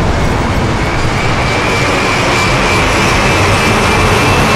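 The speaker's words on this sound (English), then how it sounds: "we went and captured lots of fast vehicles, some planes, some cars" Fast vehicles such as planes and cars recorded for Sniper Elite V2, a loud, continuous broadband rush of engine and wind noise holding steady throughout, with no talking.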